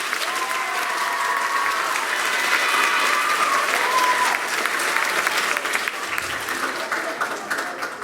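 Audience applause at an eighth-grade spring school concert, sustained clapping from a seated crowd filling the hall at an even level throughout.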